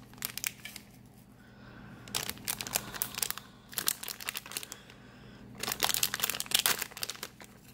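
A plastic blind bag of Star Wars collectible figures is crinkled and torn open, with close, irregular crackling in several bursts and quieter handling between them.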